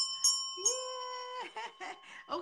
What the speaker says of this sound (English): And a little bell.